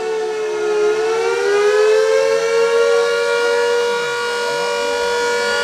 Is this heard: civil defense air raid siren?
yes